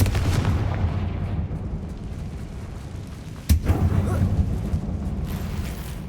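The Confringo fire-blast spell in Hogwarts Legacy lets off a sharp, loud burst partway through, set against constant rumbling game ambience and battle noise.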